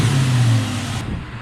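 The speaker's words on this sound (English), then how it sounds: "I love that you can actually pull a throttle cable and rev the car from the engine bay." A car engine briefly revved by hand-pulling the throttle cable in the engine bay, a short loud close roar that sustains and then begins to fall away.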